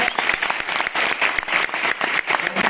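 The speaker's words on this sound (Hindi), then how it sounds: "एक बार जोरदार तालियां" An audience at an international conference at NIMS University bursts into loud, dense clapping that holds steady from start to finish.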